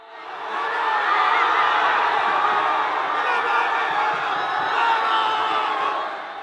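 Large crowd of fans in central Madrid celebrating the Spanish national team's return after a 1-0 extra-time win over Argentina, a dense, steady roar of cheering and shouting that swells and holds throughout.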